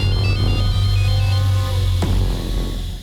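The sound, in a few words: telephone ringing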